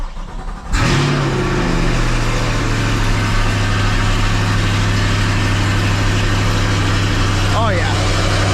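A catless C8 Corvette engine idles steadily after a cold start, a loud, constant low drone with a raised warm-up idle that holds for several seconds, and a brief higher whine near the end.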